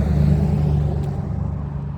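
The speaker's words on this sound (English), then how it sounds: "My goodness, the cars." Traffic rumbles steadily along a nearby road, a low droning engine hum with a car seeming to pass and fade slightly toward the end, with no talking.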